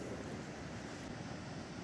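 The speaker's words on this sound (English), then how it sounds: "I see a big wave cresting out there." Ocean waves wash and break against coastal rocks in a steady, dense roar with faint wind noise and no voices.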